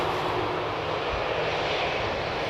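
An Air Malta Airbus, a 10-year-old aircraft arriving from Malta, vacating runway 18R at Amsterdam Schiphol Airport in the morning, a steady loud jet engine roar with broad rushing noise throughout and no talk.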